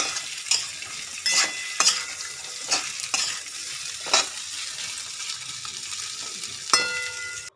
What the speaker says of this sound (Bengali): যতক্ষণ পর্যন্ত আলুর রস না বের হয়, তেলটা না ছাড়ে, ততক্ষণ পর্যন্ত আমাকে নাড়াচাড়া করতে হবে